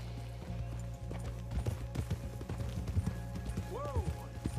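A horse in Red Dead Redemption 2 moves along with steady rhythmic hoofbeats over a low ambient hum, a voice speaking briefly and a short neigh rising near the end.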